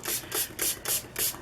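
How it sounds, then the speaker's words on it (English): A spray bottle mists water onto book paper in four or five quick, close hissing bursts with an even rhythm. "I think I'm just going to spray it with water"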